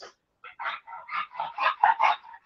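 Titus the dog breathes loudly and rhythmically close by, a run of quick, raspy huffs and snorts following one another without pause.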